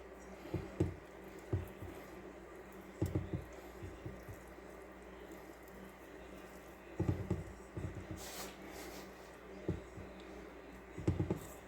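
Bare hands work through cooked rabbit meat for dumplings to pick out small bones, giving soft, close, wet squishes and pats that come in irregular clusters over a quiet background.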